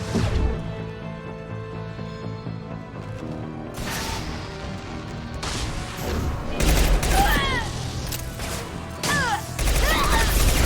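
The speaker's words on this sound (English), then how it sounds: "Firing a high-impact shot." Sci-fi combat gunfire in Mass Effect 2, loud bursts and impacts layered over a dense music score, with whooshing weapon effects growing busier toward the end.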